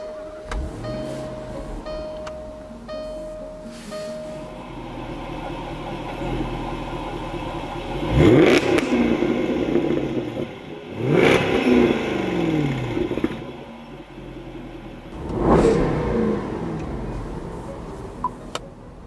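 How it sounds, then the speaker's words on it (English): The supercharged V8 of a 2013 Jaguar XKR idles with a steady low rumble, then revs sharply three times. Each rev rises and falls quickly, and no one speaks. "supercharged V8. I'm not kidding. A supercharged V8."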